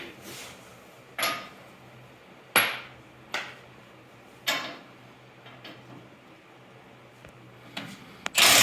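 Sharp metal-on-metal hammer blows on the steering knuckle of a 1974 K-10 truck during a lift install, about six spaced strikes, each ringing briefly, with a heavier clank at the end.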